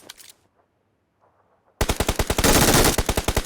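In the PUBG Mobile battle game, near silence gives way to a loud, rapid burst of automatic gunfire lasting nearly two seconds.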